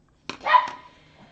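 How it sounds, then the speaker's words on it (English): A single short dog bark, sharp and fairly close, followed by quiet. "oh, somebody's barking."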